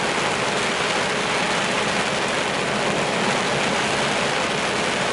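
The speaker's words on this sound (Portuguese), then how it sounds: "Chovendo muito aqui, muito." Heavy rain pours steadily on the BR-364 highway in the Amazon, a loud, dense hiss of water with a low rumble underneath and no pauses.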